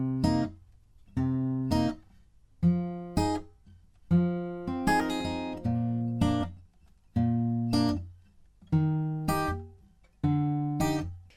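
Quiet fingerpicked acoustic guitar verse from a song, with plucked string pairs muted right after each pluck, giving a steady pattern of short, separated notes close up with no talking.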